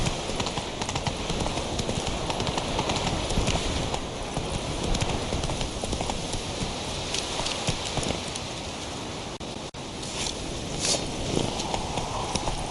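Roach the horse in The Witcher 3 trots with steady rhythmic hoof clip-clops at close range, layered over a continuous rain-like ambient wash, with no talk.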